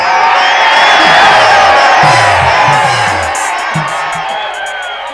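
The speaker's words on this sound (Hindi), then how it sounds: "ताली आप बहुत बढ़िया बजा रहे हो" A Haryanvi comedy show audience cheers and claps, with a roaring crowd and whoops that slowly fade, while someone speaks over the noise.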